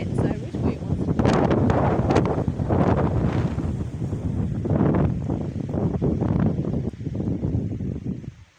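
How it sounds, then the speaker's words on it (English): Strong wind blows outdoors at the start of a November wind storm in Bridesville, British Columbia, buffeting the microphone with a loud, continuous roar that swells and eases. "Oh, weird, and the wind's blowing towards me."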